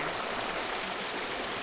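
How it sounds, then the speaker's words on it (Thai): Hot water from a waterfall streams into a natural geothermal hot spring pool in Iceland, a steady, even rush of flowing water with no break. "อันนี้มันก็อาจจะไอ้น้ำที่มันไหลลงมาจากน้ำตกที่เห็นเนี่ยมันก็จะร้อนเลย แล้วก็ลงมาผสมกับน้ำเย็นข้างล่าง"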